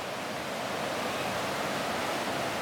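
The Cautín river flowing past Lautaro, Chile: a steady, even rush of water close by, broadband and unbroken for the whole stretch, with no voices over it.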